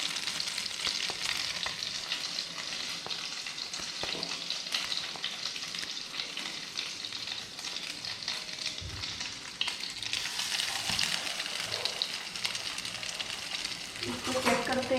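Dipped pieces of sweet bread fry gently in a pan over a low flame, giving a steady soft sizzle with small crackles and occasional light scraping, no speech.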